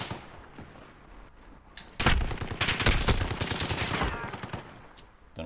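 Loud rapid submachine-gun bursts ring out in a video game gunfight, with a few scattered shots first and then a dense, sustained volley for about two seconds that tapers into sparse shots.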